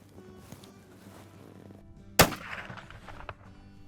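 A single sharp shot from a 20 gauge shotgun fitted with a Bushnell scope cracks out loudly outdoors, then an echo rolls away faintly across open ground.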